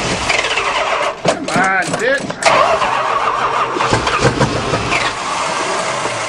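A 1976 Chrysler New Yorker being started for the first time in 17 years: its starter cranks loudly in uneven bursts while the engine tries to catch, with people talking and shouting over it.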